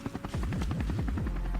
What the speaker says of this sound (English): A helicopter! It's coming from over there!